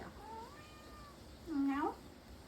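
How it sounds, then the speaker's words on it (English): A cat meows close by, a drawn-out call followed by a louder, sharper meow, with a person speaking softly around it. "So sometimes when she meows, I meow back at her"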